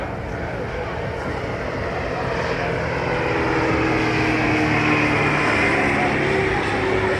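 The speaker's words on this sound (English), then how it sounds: "The tow plane is a PA-25 Pawnee." A steady propeller aircraft drone fills the scene at an air show, engine noise swelling slightly as a PA-25 Pawnee tow plane pulls a glider, broad and continuous throughout.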